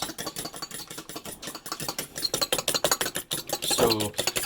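Eggs beaten with a fork in a bowl for an omelette, a steady run of quick clicking strokes close up, with a brief voice near the end.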